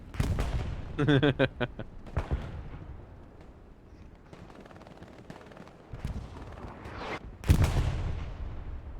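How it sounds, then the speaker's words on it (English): Rocket fire and explosions in a World War II shooter battle in Hürtgen Forest, with a sharp burst of shots early, a booming blast near the end and a low rumbling between. "That's a good rocket there from Gazuko as well on Sarge."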